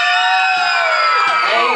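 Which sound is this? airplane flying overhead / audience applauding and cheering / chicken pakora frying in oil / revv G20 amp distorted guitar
audience applauding and cheering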